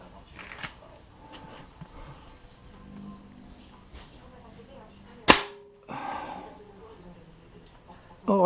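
A single sharp, loud crack from an air rifle firing a pellet stands out against a quiet background with faint voices and small handling noises before and after.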